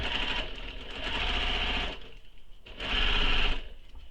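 A sewing machine bastes fabric to foam for a handbag, running a long basting stitch within the seam allowance; two steady bursts of close, busy stitching are separated by a short pause.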